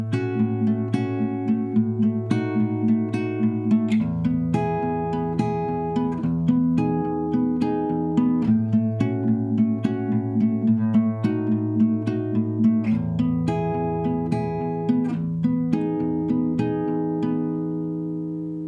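The verse and intro of a song played on guitar, adapted with an added bass string: a steady flow of plucked notes and ringing chords that stays close and clear throughout, with no voices.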